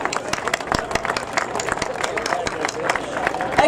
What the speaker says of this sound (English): would y'all give all of them a big round of applause?